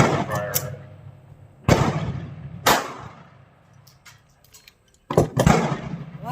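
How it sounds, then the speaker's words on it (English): A Sig Sauer P365 pistol fires four sharp, loud, close shots spaced irregularly, with outdoor echo trailing after each crack, at a range. "I'll keep on shooting it and see how much more I can put through there."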